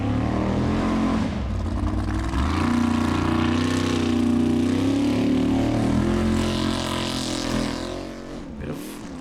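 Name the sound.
Formula Offroad car engine, the Fox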